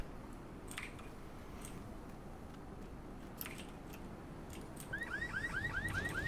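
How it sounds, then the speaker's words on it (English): A repeating car alarm sounds in The Secret World, a video game, entering late as a rapid series of rising chirps above a steady ambient bed of game noise, moderately loud and alone. "Yeah, so that one had an alarm on it."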